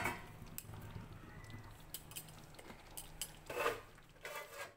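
Quiet kitchen clatter of metal and cookware, with several light clinks and taps and a brief louder knock as a lid goes over a cooking pot with coriander leaves.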